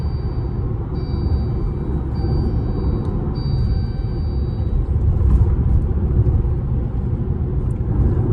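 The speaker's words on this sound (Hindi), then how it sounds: "आप आवाज सुनो गाड़ी में, कैबिन में कितनी है।" Cabin noise inside a 2022 Jeep Compass diesel cruising in sixth gear at 120 km/h on the highway, a steady low rumble of road and engine drone with faint higher whine, continuous and even.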